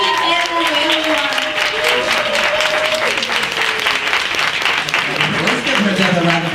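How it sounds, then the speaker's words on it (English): A round of applause from an audience at a women-owned business celebration event, dense and sustained, with tonal music or sung notes gliding over the clapping throughout. "Let's give her another round of applause."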